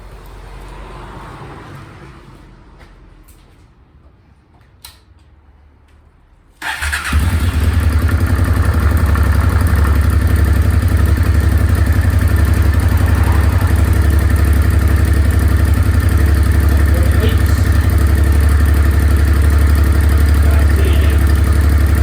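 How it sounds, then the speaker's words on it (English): Honda NTV650 motorcycle engine during a service, quiet at first with faint clicks, then the engine fires at about seven seconds and settles into a loud, steady idle that runs to the end. "I'll briefly start the engine, let it circulate, and then switch it off"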